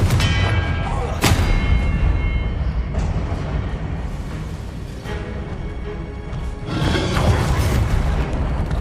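Blasting-spell explosions in Hogwarts Legacy go off during a spell duel, with heavy booming thuds, a sharp crack early and another surge of blasts near the end over a dense, rumbling battle din.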